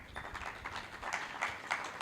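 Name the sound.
audience applause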